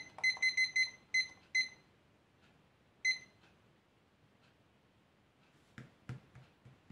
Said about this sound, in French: Je vais mettre mon petit minuteur